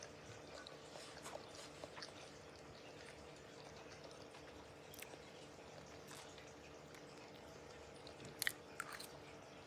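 Soft, close chewing of a moist homemade brownie during an ASMR taste test, faint wet crunches and mouth sounds repeating quietly over a low steady hiss, with a slightly louder bite near the end.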